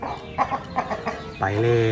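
A chicken clucks several times in short, quick bursts, then lets out a longer, drawn-out call close by.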